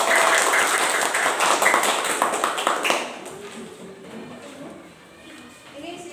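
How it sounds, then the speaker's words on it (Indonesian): A primary school class clapping for group 1 in Indonesia, a burst of many small hands applauding for about three seconds, then fading as a teacher speaks quietly. "Tepuk tangan untuk"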